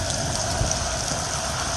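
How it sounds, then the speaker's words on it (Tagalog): Steady dense pattering of hail striking surfaces outdoors in Riyadh, a continuous hiss without voices. "Sabi ko na, uulan na naman ng yelo kasi ang lakas eh."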